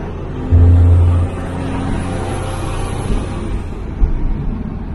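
A Cummins diesel engine in a Sweptline truck with low turbo boost revs to 2,000 RPM, a loud, steady low rumble with a brief heavy surge near the start, then a sustained drone.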